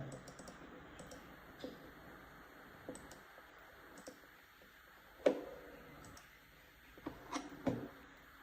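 Keyboard keys click and tap irregularly in a quiet room, with a few sharper, louder keystrokes standing out.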